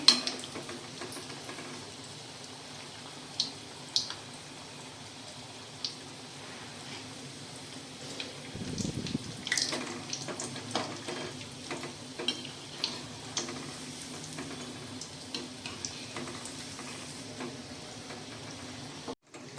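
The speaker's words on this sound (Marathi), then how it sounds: "तर मध्यम गॅसवरच हे आपण शंकरपाळी भाजून घेणार आहे." Sweet shankarpali snacks fry in oil over a medium gas flame, giving a soft continuous sizzle with faint bubbling and occasional light ticks and stirring clinks; quiet, close, and with no talking.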